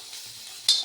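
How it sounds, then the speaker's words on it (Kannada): Soya chunks frying in a pan, a brief close sizzle with a soft stirring scrape that ends in a sudden brighter hiss, no voices. "ಗೋಲ್ಡನ್ ಬ್ರೌನ್ ಬರೋ ತನಕ ಫ್ರೈ ಆಗಬೇಕು. ಸೋಯಾ ಇದು ಫ್ರೈ ಆಗಿದೆ."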